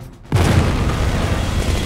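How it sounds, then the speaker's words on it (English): A loud, sudden blast in a simulated combat ambush at a checkpoint, hitting after a brief quiet and rolling into sustained booming and gunfire that keeps going close and heavy. "IED explosion at CP Columbus. We are taking heavy fire from a three-story building"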